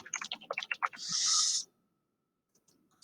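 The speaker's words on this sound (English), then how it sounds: "Again, keyboard." Quick, uneven bursts of keystrokes on a computer keyboard, close and crisp, end in a short steady hiss. Then the room goes almost silent, with a couple of faint clicks near the end.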